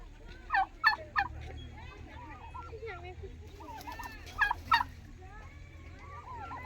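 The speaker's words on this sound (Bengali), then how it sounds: "এগুলো বড় বড় মুরগি" Large chickens at a deer park call out in two bursts of rapid, gobbling cries, with quieter warbling calls in between, over a low background hum and a water fountain.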